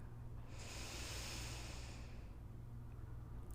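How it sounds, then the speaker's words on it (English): A slow, deep breath drawn in during a guided meditation, a steady soft airy rush lasting a few seconds, close and quiet with no talk over it. "Take a great, big, filling breath in"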